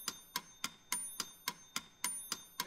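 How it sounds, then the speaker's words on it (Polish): A metronome ticks steadily, about nine sharp, evenly spaced clicks with bright ringing overtones, close and clear with no voices. "To jest metronom."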